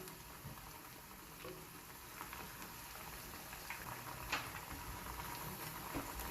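Green banana fritters frying in oil over medium-low heat, a steady soft bubbling sizzle with faint crackles and occasional small pops, continuous and fairly quiet.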